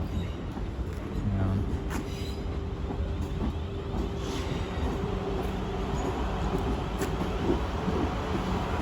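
A Class 444 electric train pulls out of a London terminus on a service for Weymouth, its rolling rumble and faint wheel squeal running steadily throughout, with a station announcement voice heard partway through.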